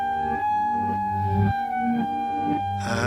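A movie theme on trumpet, reversed, giving a continuous stretch of tonal brass notes with swelling, backward-sounding attacks and a rising shift near the end, loud and alone with no voices.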